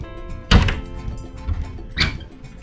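A closet door in a Carnival Panorama balcony cruise cabin thuds shut with one solid knock, followed by a couple of softer bumps and a light rattle about a second and a half later, close and otherwise quiet.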